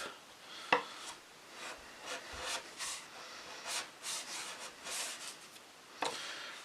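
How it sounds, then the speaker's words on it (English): A sharp chisel pares thin curls off wood in a storage cabinet build, giving a series of soft scraping strokes with a couple of sharper knocks, close and fairly quiet, with no talking. "you can just keep shaping it like this. just make sure your chisel's real sharp."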